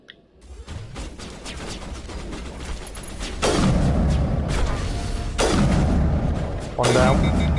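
Gunfire from the player's gun in Mass Effect Legendary Edition, dense and continuous with heavy booming bursts that surge louder around three moments, loud and close throughout.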